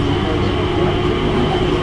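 Steady low rumble of a moving train, continuous and fairly loud, with no breaks or voices.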